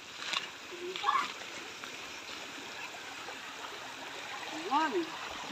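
Footsteps sloshing through a shallow stream give a few soft splashes and a running water wash, with speech-like voices faintly audible in the background.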